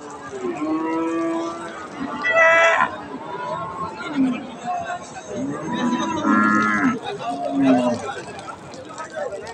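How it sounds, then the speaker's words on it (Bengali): Friesian and bony crossbred cows low loudly and repeatedly at a busy cattle market on a hot day, with long drawn-out moos close by over steady crowd chatter. "আর সামনে দেখছেন ক্রস জাতের হাড্ডিসার গাভী গরু"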